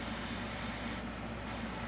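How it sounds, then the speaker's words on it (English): An airbrush sprays skin-tone paint onto a figure, giving a faint, steady hiss over a constant background noise. A brief brighter burst of spray comes near the middle. "Don't want to give it too hard of a spray."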